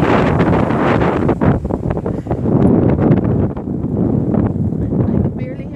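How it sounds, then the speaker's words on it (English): Heavy wind buffets the microphone in a constant loud low roar, with a voice faintly underneath. "Can't hear me because it's so windy."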